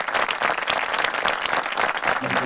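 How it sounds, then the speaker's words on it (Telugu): Dense applause from a crowd at a student prize-giving ceremony, steady and continuous throughout, with many hands clapping close by. "కరాతల ధ్వనులతో స్వాగతం పలుకుదాం"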